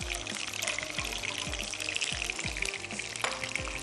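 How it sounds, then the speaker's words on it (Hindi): Water poured from a cup into a pot of tom yum soup with chicken stock makes a continuous close splashing pour with faint bubbling, heard alone. "पानी शामिल कर देती हूँ"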